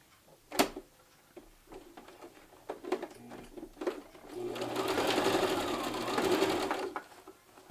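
A home sewing machine stitches a fabric face mask, starting with a few separate clicks and taps. It then runs in a sustained whirring burst near the end, close and fairly quiet.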